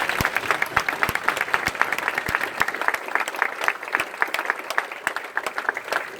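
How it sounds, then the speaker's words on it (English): Press-conference applause for boxers Anthony Joshua and Dominic Breazeale: a room full of crisp, rapid clapping, fairly close and steady throughout, with no talk over it. "a round of applause for Dominic Breazeale and Anthony Joshua"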